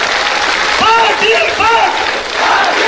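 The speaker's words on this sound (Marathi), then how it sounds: "प्रचंड टाळ्या, टाळ्या 2 मिनिट टाळ्या वाजवायच्या" A large crowd claps steadily at an outdoor Dasara rally at Bhagwan Gad, with dense, continuous applause and voices rising over it throughout.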